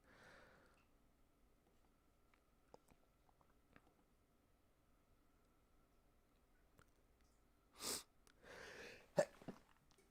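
A single sharp sneeze bursts out of near silence, followed by a quick sniff and faint clicks, close to the microphone.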